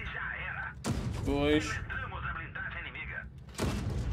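Gunshots in a video game, with sharp broadband cracks at about one second and again near the end, mixed with in-game effects while a player speaks briefly.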